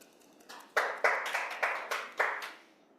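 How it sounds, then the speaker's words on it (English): A small event audience at a university knowledge-sharing session gives a round of applause: a handful of close, distinct claps in a loose rhythm, roughly six sharp hits over about two seconds, fairly quiet with a short fade. "Please give a round of applause for Bapak Rio."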